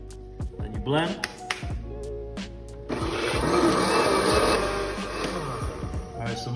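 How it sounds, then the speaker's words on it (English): A blender whirs steadily through a batch of soaked sea moss, its motor roar starting partway in and running loud and close after some clatter and speech. "Then you blend."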